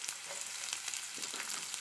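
Small chopped onions sizzle in hot oil in a pan for an okra stir-fry, a steady, fairly quiet frying hiss with faint crackles throughout and no voices.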